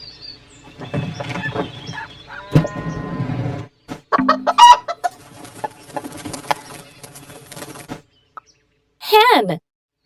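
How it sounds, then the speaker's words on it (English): Hen clucking from a children's animal sounds app, a run of quick clucks and cackles, close and clear, with brief app narration and jingles around it. "Hen."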